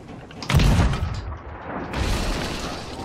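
Cannon blasts on a pirate ship in Sea of Thieves: a heavy low boom near the start, followed by a second, duller rumbling blast about a second and a half later, with no voices.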